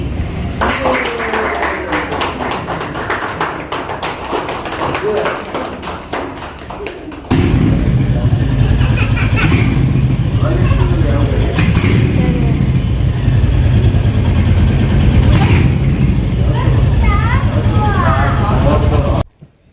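A Royal Enfield Hunter 350 motorcycle engine idles steadily with a low, throbbing rumble, starting partway through after some tapping and handling noises, with voices chatting over it.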